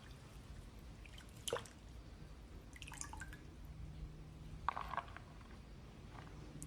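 Fresh coriander leaves rinsed by hand in water in a village kitchen while preparing coconut chutney, with a few soft, scattered drips and splashes standing out faintly against a low background hum.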